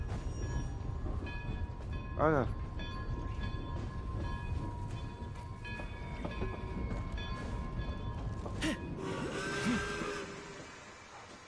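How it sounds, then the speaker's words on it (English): A train rolls past in the video game Genshin Impact, a steady rumbling clatter with a brief wavering horn-like tone early on and a rising screech near the end, while people talk over it. "Train coming."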